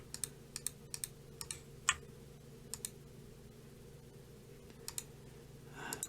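Sharp mouse clicks while working in the software for an ROG Falchion NX keyboard, coming in irregular single and paired taps spaced across a quiet room, close to the microphone and fairly faint.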